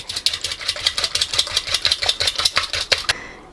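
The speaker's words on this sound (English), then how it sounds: "I'm going to just take a whisk. You don't need to get out your electric mixer, but you're going to want to whisk these until they're slightly foamy." Wire whisk beating egg whites by hand in a bowl until foamy, a fast steady run of sharp metallic clicks and scrapes close up, with no talking.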